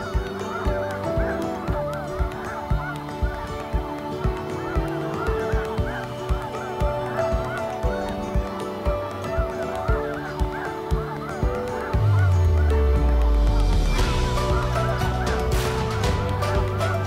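A flock of geese honks continuously at Laguna de Bustillos in Chihuahua, a dense, loud chorus of overlapping calls with a low rumbling sweep rising near the end.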